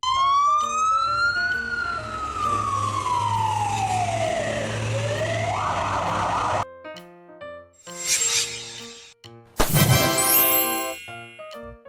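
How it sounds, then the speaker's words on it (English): Fire and rescue bus, a converted bus for evacuating people from fire zones, sounds a loud wailing siren that sweeps up and down, then gives way to short horn blasts and bursts of electronic tones. "Fire and rescue bus, a converted bus used to evacuate people from fire zones and transport rescue equipment."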